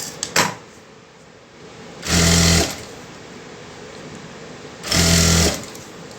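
A sewing machine stitching cloth in two short, loud whirring bursts separated by a quiet pause, with a faint click near the start.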